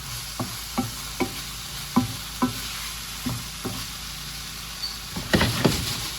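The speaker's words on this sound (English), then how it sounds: "Mainly because of that black soy sauce. Mix it up, make sure everything's covered." Food coated in black soy sauce is stir-fried in a hot pan: about nine rhythmic spatula scrapes and tosses sound close over a constant sizzle, ending in a quicker burst of clattering stirs.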